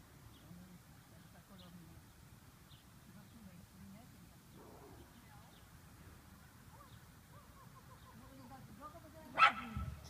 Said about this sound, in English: Oh, there's other dogs.